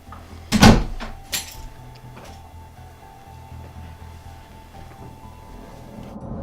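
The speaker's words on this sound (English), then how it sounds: "You can close the door, it's cold outside." A door slams shut with one loud, close thud, followed by a lighter knock a moment later, then the quiet hum of an indoor room with no talking.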